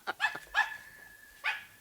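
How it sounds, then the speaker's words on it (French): A dog in a Tintin cartoon barks three times in quick succession, then once more after a pause, sharp and close. "Oui, tu peux aboyer au-dessus du trou."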